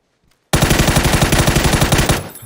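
Automatic gunfire in the PUBG video game: after a brief quiet, a loud, close burst of about fifteen rapid rounds in steady rhythm rattles for roughly a second and a half, then cuts off and fades.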